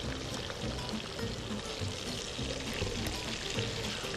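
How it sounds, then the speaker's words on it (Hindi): Water is poured from a jug in a kitchen, a steady, continuous splashing gush heard close and alone for several seconds. "मुझे पानी दीजिएगा जग में"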